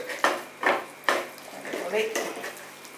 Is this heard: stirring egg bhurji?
yes